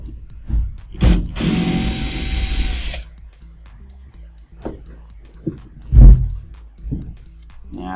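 A power drill undoes a screw on a DLP TV chassis in one loud buzzing run of about two seconds, framed by nearby clicks and handling knocks.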